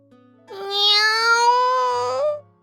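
A cat in the Grisaia no Kajitsu visual novel game gives one long, drawn-out meow lasting nearly two seconds, clear and close, with near silence before and after.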